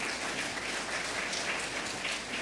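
A crowd at an honorary citizenship ceremony in Abidjan, with dense, steady clapping sustained throughout at moderate loudness and no talk over it.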